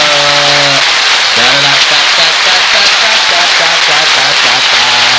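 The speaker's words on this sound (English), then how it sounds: "Everybody clap it" A group claps during a team-building segment, loud dense clapping that holds steady throughout, with people talking over it at times.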